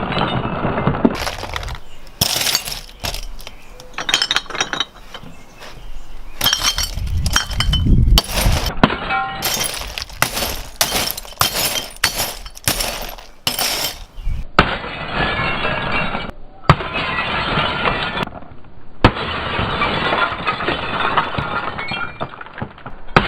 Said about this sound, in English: Let's get some bottles, get smashing.